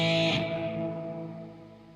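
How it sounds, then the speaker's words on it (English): Software-added digital reverb trails off a processed, distorted musical tone, leaving a long echoing decay that fades steadily over about two seconds with no voices. "It's a digital reverb."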